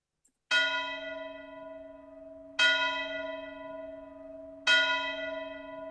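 A game audio bell sound effect strikes three times at even intervals, each ring loud and clear with a long sustained tone.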